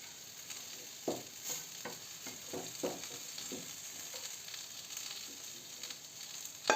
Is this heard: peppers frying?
yes